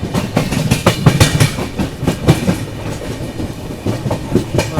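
The 12423 Dibrugarh Rajdhani Express rolls along the rails, heard from inside a 3AC coach: a loud, close, rhythmic clickety-clack of wheels over rail joints, with steady rumble underneath.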